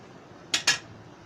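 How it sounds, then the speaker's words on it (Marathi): Coconut, date powder and powdered sugar mixed together in a bowl for sabudana ladoo, heard as two quick close scrapes of a spoon against the vessel in otherwise quiet surroundings. "आता सगळं असं मिक्स करायचं."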